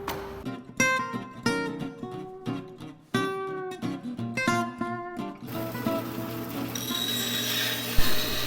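A bandsaw cuts wood. Intermittent tonal whining bursts give way to a steady motor hum with a rasping cut, loud and close, with no talk.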